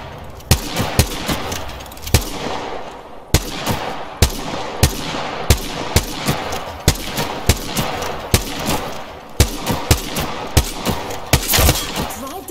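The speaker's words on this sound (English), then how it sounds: "Line up the sights. Stop thinking and shoot." Gunfire in the Apex Legends video game, loud and steady: repeated single shots at a fairly regular pace over a continuous background rumble, with a denser burst near the end.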